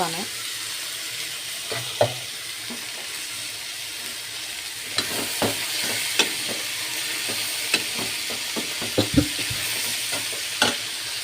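Fresh sweet corn being stirred as it fries in a pan for a Belagavi-style upma, with a continuous hiss of frying and repeated sharp spoon clinks against the pan.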